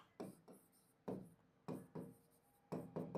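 Pen or marker writing on a board during a maths lesson, a run of short scratchy strokes in quick bursts with brief pauses between, close and fairly faint.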